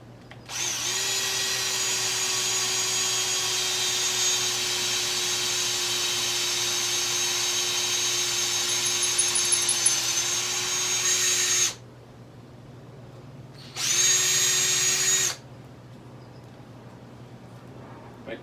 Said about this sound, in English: So let's drill that hole out.